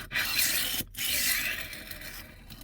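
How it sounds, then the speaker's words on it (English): A knife is drawn along a HORL 2 rolling sharpening system, giving two close, gritty grinding strokes separated by a brief pause. "the sharpening device, like so, and you begin to grind"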